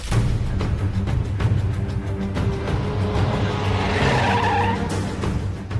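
A car brakes hard and skids to a stop, a loud, sustained scrape of tires with the engine rumbling underneath, rising into a sharper squeal toward the end.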